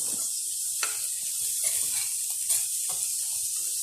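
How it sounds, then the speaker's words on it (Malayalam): Small onions with salt sautéing in a pan over a medium flame, giving a constant close hiss of frying with occasional soft stirring strokes and scrapes, no voices. "ഇതിനി നമുക്കിതൊന്ന് വഴറ്റി കൊടുക്കണം ഉള്ളിയുടെ പച്ചവാസനയൊക്കെ മാറുന്ന വരെ"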